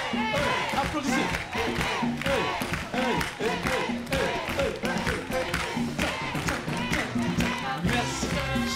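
A church congregation at a baptism service claps and cheers loudly throughout, with dense rhythmic clapping, shouts and voices mixed in, sustained and close.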